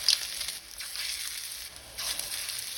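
Chicken pakora in a batter of cornflour, gram flour and egg frying in hot oil, a steady hissing sizzle with slight swells, close and without talk.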